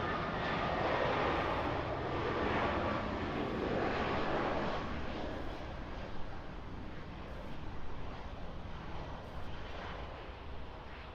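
An Airbus A319 jet airliner on short final to runway 06 right at Toronto Pearson roars steadily overhead for several seconds, a broad, sustained engine rush that eases slightly as it passes, with no voices.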